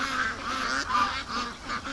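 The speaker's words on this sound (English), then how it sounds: "Oh, Canada geese." Canada geese coming in over a lake honk loudly and close, with several clear calls in an uneven rhythm and no talking.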